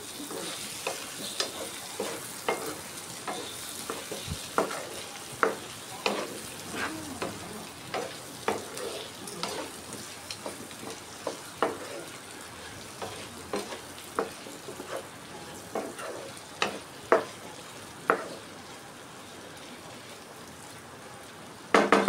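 Cucumber pieces hiss and sizzle steadily in a hot pan for dosakaya pulusu, with scattered sharp clicks and spatters from stirring. The sound is close and moderately loud, with no talking.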